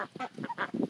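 A duck calls in a short run of nasal honking quacks, close and fairly faint, alone without talk.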